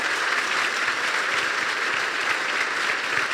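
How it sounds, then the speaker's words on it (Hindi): A congregation at a Christian church gathering in Punjab, India, claps loudly for Jesus Christ, producing dense, sustained applause that stays strong and even throughout. "क्या हम यीशु मसीह के लिए एक जोरदार ताली बजा सकते हैं?"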